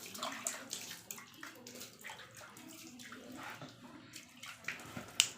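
Water is sprinkled and splashed onto a sack cooler, a homemade wet-sack air cooler, giving a steady, close wash of splattering water with a few sharper drips and splashes and no talking.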